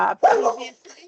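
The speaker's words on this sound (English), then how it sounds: "that was my dog barking" A pet dog barks at home during an online regional transport committee meeting: a couple of sharp, close barks in quick succession, with a voice heard among them.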